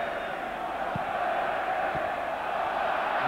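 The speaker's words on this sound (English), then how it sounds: "the home crowd chanting to Liverpool passes and attempts" Home football crowd in an Athens stadium during a UEFA Cup match against Liverpool, a dense sustained roar of massed voices with faint chanting, steady and loud, with a couple of brief low thumps.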